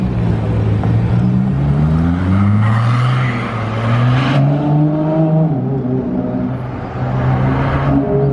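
Ferrari LaFerrari passing by in Monaco during the Grand Prix weekend, a loud close engine note rising and shifting in pitch as the car drives past, with a second engine swell following.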